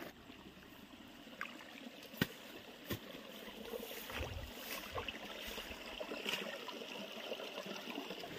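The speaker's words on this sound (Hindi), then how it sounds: "अब देखिए ये साइड कितना ज़्यादा पानी चल रहा है" Water flows through a dug channel into a pit beside a field, a faint, steady trickling stream with a few soft knocks and splashes on top.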